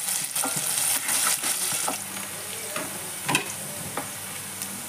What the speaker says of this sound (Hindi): इसे भी हल्का गोल्डन कलर आने तक इसे हम भूनेंगे।